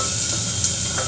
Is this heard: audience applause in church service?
no